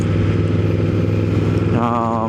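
A Yamaha Vmax 1700 motorcycle engine runs with a steady low, throbbing rumble close by, and a rising whine joins near the end as the revs climb.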